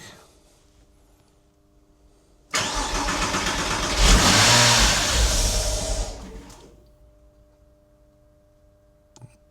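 The swapped engine in a Porsche Boxster cranks and catches, rises to a loud rev, then runs a few seconds and cuts off, leaving a quiet room with a faint click.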